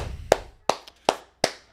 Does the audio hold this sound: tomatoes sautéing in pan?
no